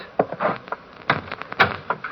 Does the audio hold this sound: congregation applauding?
no